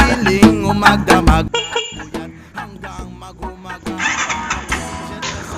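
A tricycle horn honks several times in short bursts, followed by its engine cranking via push-button start and catching, with clattery mechanical noise throughout.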